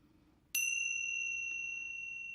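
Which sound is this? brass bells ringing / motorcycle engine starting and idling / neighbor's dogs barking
brass bells ringing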